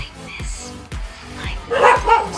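Four sharp dog barks, spaced roughly half a second apart, ring out at moderate volume with faint background noise and a brief murmur near the end.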